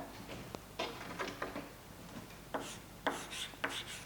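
Someone writes out a chemistry problem on a board, producing faint, quiet scratchy strokes and light taps in an irregular rhythm, with no talking.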